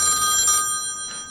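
An old-style telephone bell rings in two short metallic bursts separated by a brief gap. The ringing is moderately quiet and heard on its own.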